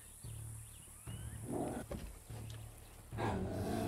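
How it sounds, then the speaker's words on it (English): Dog companion in the video game Far Cry 6 growling low, in several rumbling bursts separated by short gaps, fairly faint over a steady game ambience with a few soft clicks and no talking. "Why are you growling?"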